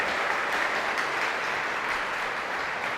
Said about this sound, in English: one more round of applause for our silver presidential award recipients